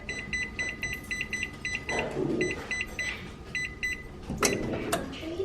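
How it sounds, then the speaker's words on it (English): An oven control panel beeps in quick repeated bursts of short electronic tones while being set to preheat to 425, with some nearby handling noise and clatter in between. "we're going to preheat this oven right here to 425"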